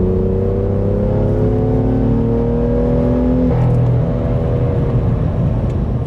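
A BMW M2 F87 with a single-turbo N55 and clubsport exhaust builds a deep, muffled, booming drone that climbs steadily in pitch under acceleration, then drops sharply off throttle into a lower rumble, loud and close.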